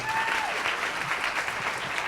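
A crowd at a masterclass session on selling and social media applauds in a dense, steady wash of clapping lasting about two seconds.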